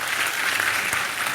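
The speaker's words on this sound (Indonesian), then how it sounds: "Kita semua tepuk tangan untuk Mbak Puan" Audience applause for Mbak Puan, dense steady clapping filling the whole short stretch, loud and close with no pauses.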